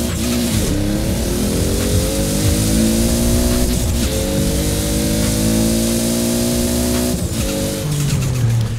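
A max-tuned Toyota Supra MK4 in the racing game Forza Horizon 4, its engine droning loudly and steadily as revs rise and shift, with tire and road noise continuous throughout.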